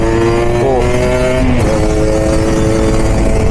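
A Kawasaki Ninja RR motorcycle engine idles loudly nearby, its pitch rising and dipping as the throttle is blipped a couple of times.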